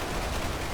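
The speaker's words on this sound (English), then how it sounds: "that's a lot of overlapping fire" Massed gunfire from units in Ultimate Epic Battle Simulator 2, a Warhammer 40k battle with Eldar against a Pox Walker swarm, forms a dense, continuous wash of overlapping shots with no single report standing out.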